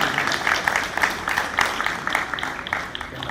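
Audience at a school's annual convocation applauds its graduating tenth-grade students, a steady crackle of many hands clapping at moderate volume that lasts the whole stretch without letting up.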